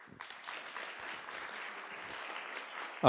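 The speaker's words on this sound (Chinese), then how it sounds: "我们先用热烈的掌声来欢迎谢副校长" A lecture-hall audience claps to welcome a university vice president, a steady wash of applause that rises quickly and holds at moderate level for about three seconds.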